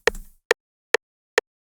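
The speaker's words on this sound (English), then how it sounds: "sharp little rim shot sound that sounds like this" A short, sharp rim shot sample, used as a sidechain trigger, clicks four times at an even pace. The first hit has a brief ringing tail and the next three are dry, isolated ticks.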